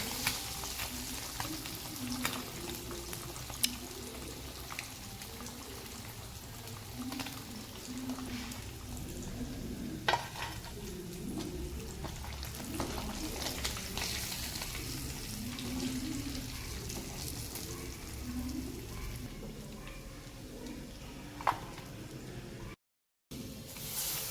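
Fish roe fries in oil on a flat tawa, giving a steady, close sizzle for about twenty-four seconds, broken by scattered sharp pops and crackles and a brief moment of silence near the end.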